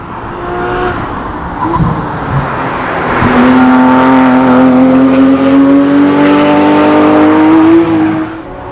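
A Porsche 911 GT3 RS exhaust roars loud and close while driving, the engine note rising steadily under acceleration for several seconds before easing off.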